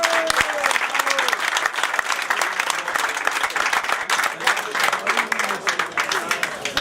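A crowd at a French hill climb event applauds a driver with loud, sustained clapping, with an announcer's voice and crowd noise running beneath the applause.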